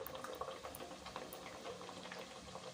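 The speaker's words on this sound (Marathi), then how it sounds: "कढईमध्ये तेलसुद्धा गरम झालेले आहेत तर गरम तेलामध्ये आता आपण ह्या पुऱ्या तळून घेऊया" Masala puris deep-frying in hot oil in a kadai make a steady, close bubbling crackle with dense popping that carries on without pause and without any talk.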